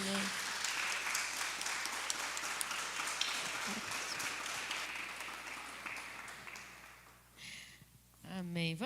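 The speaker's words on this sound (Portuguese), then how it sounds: "Dá uma salva de palmas então para Jesus." A church congregation applauds steadily for several seconds, the clapping gradually fading out before a voice begins speaking.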